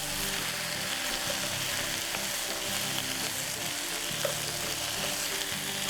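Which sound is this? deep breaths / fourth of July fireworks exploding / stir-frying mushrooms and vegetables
stir-frying mushrooms and vegetables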